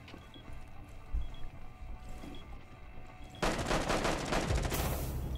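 Rapid automatic gunfire in Rainbow Six Siege, a dense burst of shots erupting loudly after a quieter stretch of footsteps and ambient game noise.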